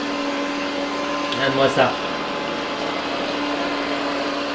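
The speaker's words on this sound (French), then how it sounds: "l'aspirateur, il commence" An Ecovacs Deebot Ozmo 920/950 robot vacuum cleaner runs in normal mode with a steady, close motor drone and whine, with a brief surge of brush noise midway as it moves onto a rug; a person speaks briefly over it.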